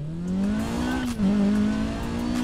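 A heavily modified dragster in Need For Speed Payback holds a loud, steady engine drone that rises slightly in pitch, dips briefly at a gear change, then climbs again.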